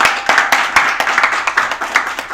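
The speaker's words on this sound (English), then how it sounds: "I think we should give them another round of applause" An audience at a media briefing applauds ICRISAT with loud, close, brisk clapping from many hands, sustained and even in rhythm.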